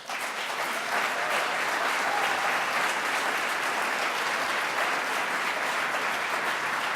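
An audience at Governor Steve Bullock's 2019 Montana State of the State address breaks into applause, rising quickly to a loud, dense, sustained clapping from a large crowd, with no speech over it.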